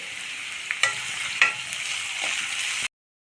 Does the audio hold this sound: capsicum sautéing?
yes